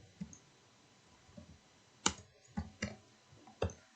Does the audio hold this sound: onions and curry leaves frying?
no